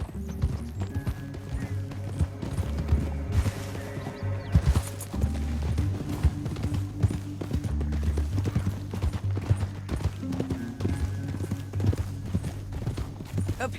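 Horse hooves clip-clop in a steady rhythm over a low musical drone in the video game Red Dead Redemption 2, with a brief whinny-like burst partway through.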